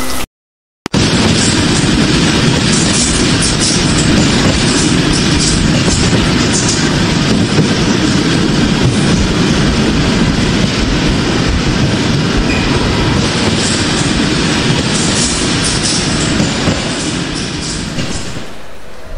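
A train passing in a Bengali horror cartoon, a loud, continuous rumbling clatter of wheels that starts abruptly after a brief gap and holds for nearly twenty seconds before easing off.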